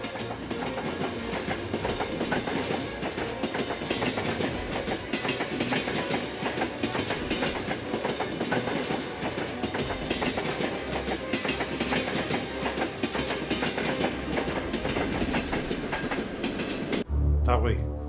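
A metro train runs through a subway station with a dense, continuous roar and rhythmic clatter that stays loud for the whole stretch before cutting off abruptly at the end.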